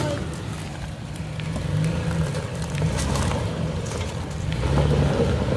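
Toyota FJ four-wheel drive climbing a forest hill, its engine droning and revving harder toward the end, close by, with people talking over it.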